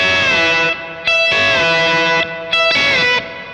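Electric guitar run through a Helix-style effects rig, playing sustained distorted chords with ringing upper notes, three loud strummed swells in a steady rhythm, close and alone.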